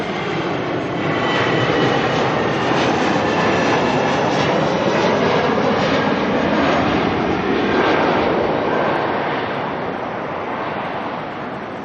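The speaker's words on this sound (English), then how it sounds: "we've got QF144 coming on in" A Qantas jet airliner on flight QF144 comes in to land at Auckland Airport, its engines a loud, steady broadband roar that stays close and sustained throughout, with no voices.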